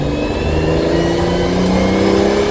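A 1989 Toyota Cressida with a turbocharged 1JZ engine revs hard under boost, a loud steady mechanical roar that climbs in pitch with no speech over it.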